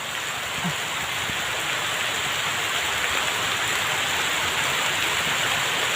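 Rain falls in a steady, dense hiss with no pauses, a close and uniform wash of noise.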